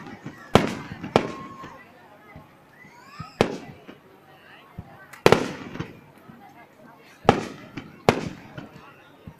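Fireworks launched outdoors, a series of sharp loud bangs and crackles spaced a second or two apart, with whistling rising shells between them and people talking in the background.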